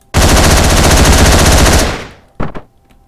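Loud, dense machine gun fire from the video game Hotline Miami, one sustained burst of rapid rounds that cuts off abruptly, followed by a couple of brief sharp clatters.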